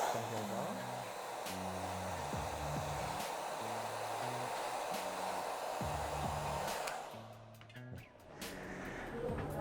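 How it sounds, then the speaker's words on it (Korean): A hair dryer blows cold air on its strongest setting in a loud continuous rush, while soft music plays underneath; the airflow briefly dips near the end. "드라이기가 필요하겠죠. 차가운 바람으로 제일 강한 바람이 좋습니다"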